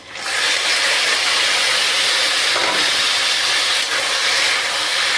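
Chicken pieces sizzling in a hot pan with onions, a loud continuous hiss of steam and spitting oil close by, steady throughout with no talk.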